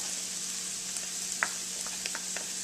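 Serrano pepper and garlic hitting a pan of browned onions and mushrooms, a steady soft sizzle with a few faint utensil clicks, close and even, no speech.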